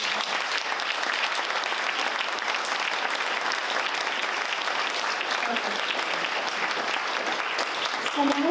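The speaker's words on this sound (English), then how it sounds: "Do you want to give a round of applause?" A meeting audience applauds steadily, with dense continuous clapping from many hands that holds at an even level throughout, fairly close, with no talking over it.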